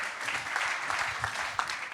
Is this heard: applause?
yes